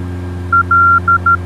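Morse-code ident tone of a VOR radio beacon heard in the cockpit of a Cessna 172 in the Flightgear flight simulator, a short series of clean steady beeps over a constant low engine drone.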